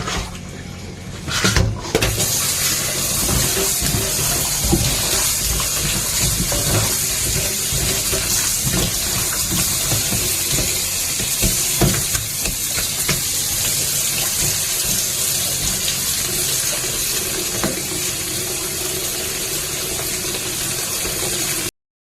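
Running tap water pours steadily over salted eggplant being rinsed clean in a kitchen sink, a continuous hissing splash with occasional knocks and clatters of handling, close and without any talking.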